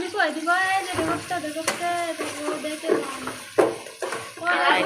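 Chicken meat with onion, bay leaves and garam masala sizzles and fries in a pan while a person talks over it, with occasional clinks and stirring scrapes.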